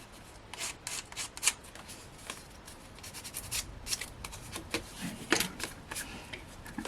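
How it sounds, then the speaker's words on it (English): Soft, repeated rasping strokes of hand sanding on card, quiet and close, in an uneven rhythm with short bursts of scraping. "being careful not to sand too much away, because I don't want to take the card"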